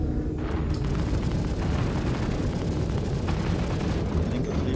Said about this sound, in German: Da ist gerade wer explodiert, oder?